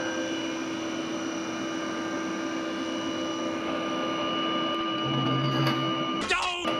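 A CNC mill cuts a boring bar cutter profile, a steady machine whine with sustained tones running throughout, then abrupt clattering bursts near the end.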